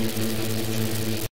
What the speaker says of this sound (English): An electric fence. You duck.